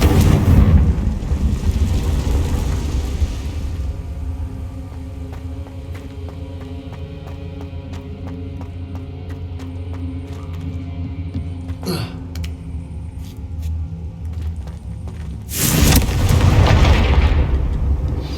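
Spell explosions in Hogwarts Legacy, with deep booming blasts at the start and near the end over a low rumbling game backdrop and scattered faint clicks and crackles in between.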